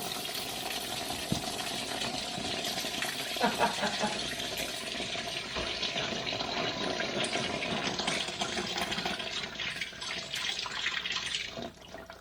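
Coolant gushes out of an opened radiator on a Land Cruiser with a 3FE engine, a steady, close splashing rush of liquid that keeps going for several seconds with small spatters.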